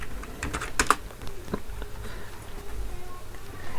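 Code is typed on a computer keyboard in quick, light clicking bursts, close and fairly quiet, with irregular rhythm and brief pauses between keystroke runs.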